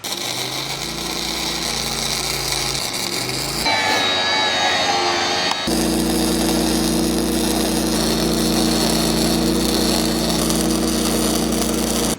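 MIG-style welding of a torsion axle onto a Carson enclosed trailer, a steady crackling buzz running nearly continuously and close by, briefly broken by a short shift in tone midway before the sustained arc resumes.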